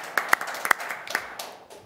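A small round of applause for committee members at a Board of Health meeting, with scattered individual claps, a few crisp and close, thinning out over two seconds in a quiet room.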